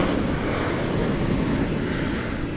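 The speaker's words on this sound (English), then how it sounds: "That is a Boeing 737-823." A Boeing 737-823 airliner, nine years old and painted in American's heritage livery, roars steadily at DFW International Airport, a continuous broadband engine rumble with no speech.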